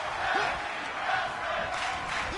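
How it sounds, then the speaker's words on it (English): Wrestling crowd at a tag team match in Hershey, Pennsylvania, chanting in a continuous rhythmic roar that swells and dips, heard from within the arena. "This crowd here in Hershey, Pennsylvania is excited as they're chanting tag team wrestling."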